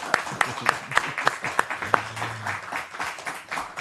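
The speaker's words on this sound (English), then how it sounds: "Can we give a round of applause to Mr. Alcy Leyva?" A handful of people clap for a podcast guest, about a dozen sharp, evenly spaced claps close by, thinning out with a brief low hum and softer scattered claps afterward.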